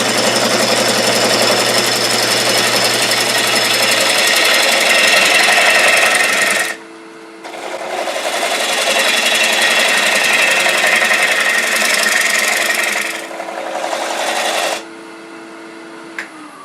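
Bowl gouge cutting the rim of a live-edge walnut bowl on a wood lathe, a loud, steady rough cutting roar that stops briefly twice, leaving the lathe's quieter motor hum.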